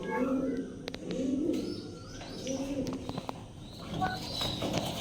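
White Indian lakka pigeons cooing in soft, repeated low rolling phrases, close by, with faint chirps from other birds and a few light background noises.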